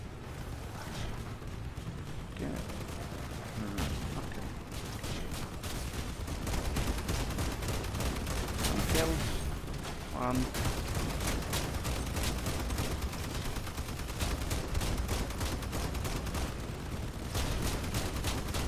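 Turret gunfire from an armored vehicle in the game Crossout, rapid bursts of loud shots and impacts repeating almost continuously over rumbling engine and battle noise.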